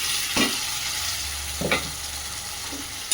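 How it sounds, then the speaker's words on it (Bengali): Chunks of mango coated in a ground paste of mustard, cumin and green chilli sizzle steadily in a pan, with a few soft scrapes of a spatula stirring them through the hiss. "এটাকে আমি ভালো করে কষিয়ে নেব"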